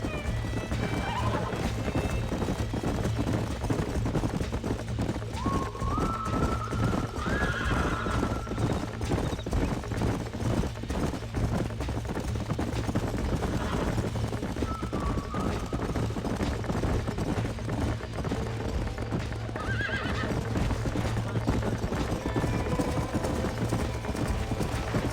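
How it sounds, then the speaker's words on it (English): Horses in Red Dead Redemption on a ranch clip-clop steadily and neigh several times over a constant wash of game ambience, with a low hum throughout and no clear talking. "These are fine horses."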